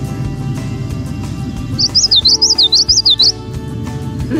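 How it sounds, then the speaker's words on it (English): Common yellowthroat sings a clear, repeated witchity-witchity phrase of about five quick, rising and falling notes. The song carries over a busy outdoor background with low rumble and distant sounds, and no one speaks. "this one makes a call that's like, kind of sounds like, witchity, witchity, witchity"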